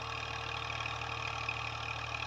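A tractor engine runs steadily in a farm field in Punjab, a continuous even rumble with a faint rhythmic knock, close and unbroken, with no talk.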